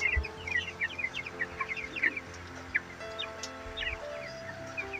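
Chickens on a poultry farm cluck in short, scattered bursts from several birds at once, moderately close, over a low steady background hum.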